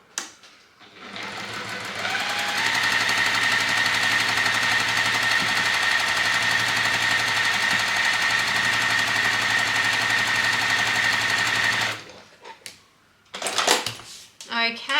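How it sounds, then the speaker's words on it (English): A sewing machine stitches quilt sub-blocks in one steady, humming run of about ten seconds. It stops abruptly, and then come a few short handling noises. "I'm just going to make sure I line it up nice and even, and we're going to sew straight down."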